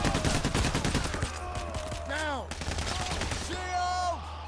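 Gunfire from police in the video game Payday: The Heist, a dense fusillade of shots with scattered bursts and a steady low hum, game tones and effects sweeping over it, loud and close throughout.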